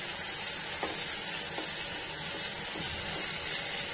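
Chutney with lemon stirred in a pan over an open fire, a steady close sizzle and hiss with a few faint scrapes of the spoon, no voices.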